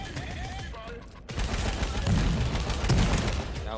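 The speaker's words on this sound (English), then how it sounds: "Oh, he threw a grenade in here." Grenade blast and gunfire in the battle royale video game H1Z1 King of the Kill, a sudden loud burst followed by dense, sustained rattling shots and explosive noise, with faint voice at the start.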